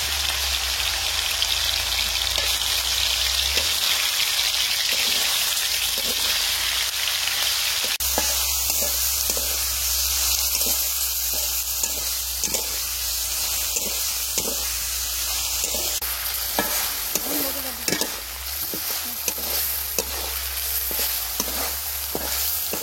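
Marinated meat for a village-style pizza fries in hot oil over a clay stove, a loud, steady crackling sizzle with repeated stirring scrapes throughout, no speech.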